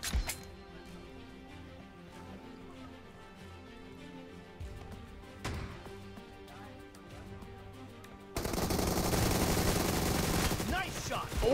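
Gunfire in a competitive shooter game, sharp individual shots early and then a dense, loud stretch of rapid firing and explosions near the end, with players talking over it.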